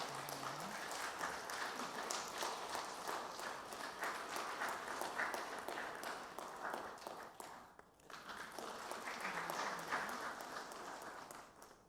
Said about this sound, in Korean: 박수를 크게 해주세요.